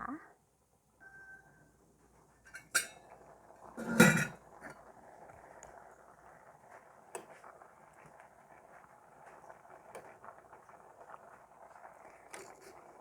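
A lid goes onto a cooking pot while making Thai bamboo-shoot curry with yanang leaves, one sharp metallic clank near the middle of a quiet kitchen with faint background clatter.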